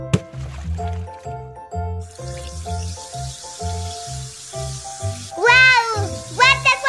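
A bath bomb fizzes in a filled bath, turning the water pink, in an animated cartoon; a steady hiss of fizzing runs for a few seconds under a bouncy musical beat, followed by squeaky cartoon voices.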